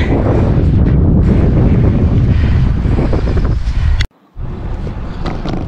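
Strong gusty wind with gusts up to 60 km/h roars loudly across the microphone while cycling toward the Baltic coast, a constant heavy buffeting broken by one abrupt brief drop, heard without any talk.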